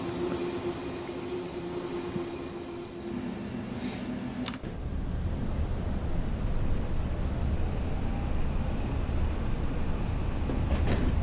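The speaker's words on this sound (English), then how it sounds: "Oh look, this is the other train." A passing train in Train Sim World on the Mittenwaldbahn line gives a steady rumbling roll with a sharp clunk partway through, after which the low rushing noise grows heavier and stays constant.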